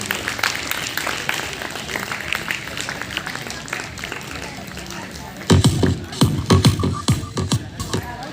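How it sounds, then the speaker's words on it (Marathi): Audience clapping at an award ceremony, a steady patter of applause under crowd murmur that swells into louder, sharper bursts of claps toward the end. "जोरदार टाळ्या टाळ्या चालूच ठेवा"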